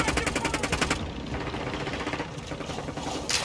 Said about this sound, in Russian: Кто-то стреляет рядом.